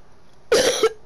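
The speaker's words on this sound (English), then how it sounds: "I'm actually a little bit sick. I have a cough." A sick gamer coughs twice up close, a harsh burst followed by a second short cough after a brief pause, with no talk.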